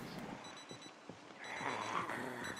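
An alarm goes off in the zombie survival game Project Zomboid, a faint repeating electronic beeping that grows slightly stronger partway through, heard behind quiet game ambience.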